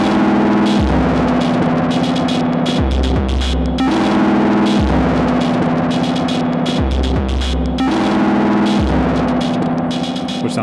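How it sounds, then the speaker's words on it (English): A droning synth chord from an Elektron Model:Cycles run through a Walrus Audio Melee Wall of Noise pedal's heavy distortion and washy reverb, with a pulsing low bass note that shifts every couple of seconds, loud and continuous. "And the more you go up, the more distortion you get."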